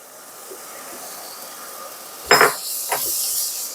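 Garlic and broccoli hitting a hot pan for a stir-fry, a sudden loud sizzling burst with clattering, followed by a second splash and steady frying hiss.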